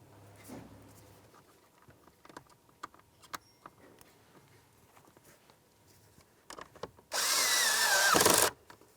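A power tool on a 2004–2015 Nissan Titan runs in one loud burst lasting over a second to snug the wiring harness mounting bolt on a new heater blower motor, after scattered small clicks and handling taps.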